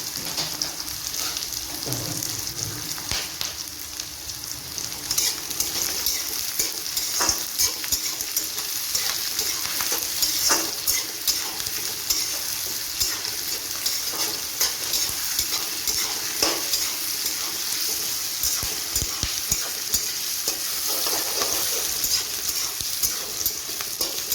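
Onions frying with sugar in a pan, a continuous close sizzle broken by repeated scraping and clacking stirring strokes at an irregular rhythm, with no talk.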